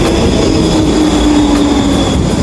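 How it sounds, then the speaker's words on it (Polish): A Warsaw tram on line 23 pulls into a stop, giving a steady loud rumble of wheels on rail with a faint squeal running through it and no voices. "a jednak wjeżdża tramwaj 23 w kierunku Czynszowej"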